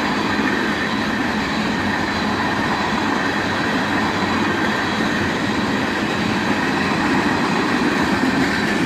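A CSX train passes close by in a continuous, dense roar of wheels and cars, steady and loud throughout with no voices.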